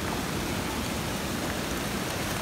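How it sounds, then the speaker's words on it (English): Hail pelting down on hikers descending a hill outdoors, a dense, steady hiss and patter of impacts that fills the whole stretch evenly, with no voices heard. "Oh god, it's hail. Dude, it's hailing."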